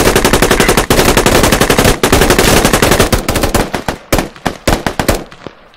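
Rapid, loud machine gun fire in the combat video game Squad, rattling in long continuous bursts before breaking into shorter, spaced volleys.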